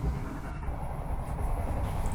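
A GWR HST high speed train running on tracks through the Cornish countryside gives a steady, loud, low rumble with no breaks or distinct clacks, as if heard from inside a moving carriage, and no one talks.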